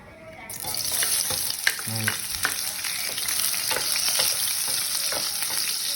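Cooking oil heats and sizzles in a pan ready for onions, a loud, even crackle that carries throughout with scattered pops and a brief utensil clink.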